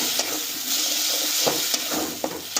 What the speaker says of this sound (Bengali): এই মশলাগুলোকেও আমরা খুব ভালোভাবে কষিয়ে নিচ্ছি মশলাটা আমাদের অনেকটা ভাজা হয়ে গেছে